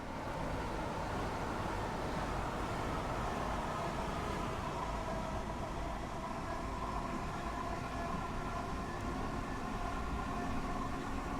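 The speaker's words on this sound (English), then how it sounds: "That was a train." A Southeastern High Speed train passes in Train Sim World 4, a steady broadband rumble with tonal hum holding at an even level for several seconds, no voices over it.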